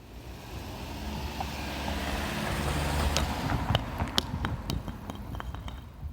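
A car passes during a physics demonstration with a dropped rock: a steady low rumble that builds toward the middle, with a few sharp clinks and ticks near the end.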